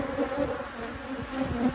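Agitated bees swarming around a hive at an apiary, a dense continuous buzzing close by, rising and falling slightly in intensity.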